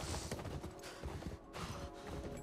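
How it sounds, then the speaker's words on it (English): Horse hooves gallop in a steady clip-clop rhythm during a chaotic chase in The Last of Us Part I, loud and close over dense game noise and music. "Faster, horse, faster!"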